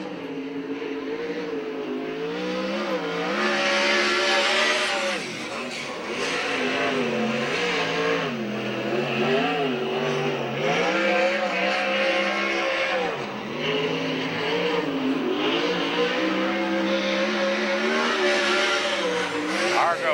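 USAC/CRA sprint cars run a qualifying lap at Santa Maria with loud, continuous engine roar and repeated pitch swings as they rev through the turns. Someone talks over the engines.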